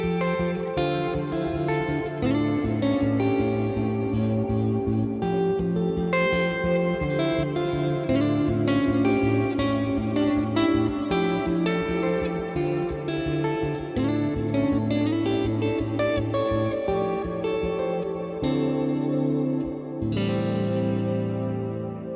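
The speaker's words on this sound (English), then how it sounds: "The Plex reverb is one of my favorite effects of all time." Ambient synth noodling drenched in a Plex reverb, a continuous loud sustained pad with chorus-like shimmer and long washing tails, steady throughout with no talking.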